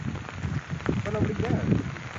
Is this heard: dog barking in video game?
no